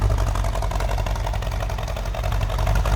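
A 1965 Ford Mustang Fastback with a 289 four-barrel V8, Edelbrock carb and intake, and a mild cam idles heard from behind: a loud, steady, low rumble with a slightly uneven, lopey pulse throughout.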